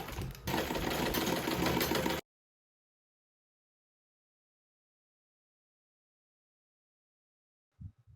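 A sewing machine stitches boning onto a knit skirt panel, a loud steady mechanical whir running for about two seconds, then stopping into silence before a brief soft thump near the end.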